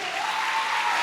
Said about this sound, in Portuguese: palmas para o pessoal da galera de escola pública